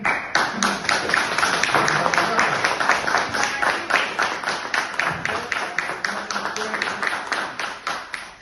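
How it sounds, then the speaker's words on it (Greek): A crowd claps in a fast, steady rhythm after a political speech at a New Year's cake-cutting gathering, with the sharp claps even and continuous, faint voices underneath. "Σας χρωστάω ένα χειροκρότημα για αυτό που κάνατε."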